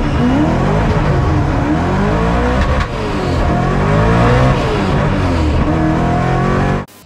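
BMW M3 race car doing runs at the Mérignac track, its engine revving hard and loud throughout with rising and falling pitch through gear changes, a clutch fault making shifts rough, cutting off abruptly at the end.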